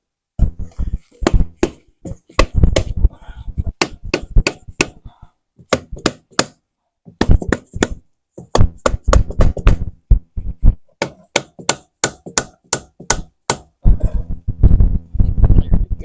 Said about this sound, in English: Now this hub, it's a little stubborn. That's why we have a hammer.